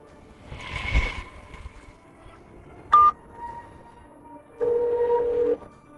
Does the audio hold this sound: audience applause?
no